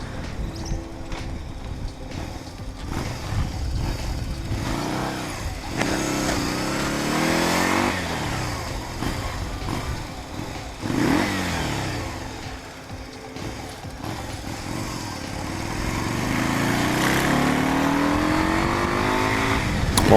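A loud 1993 Yamaha Virago 250 cruiser motorcycle engine runs steadily for the whole stretch, revving up and down in repeated surges with a rough, throaty tone and no talking over it.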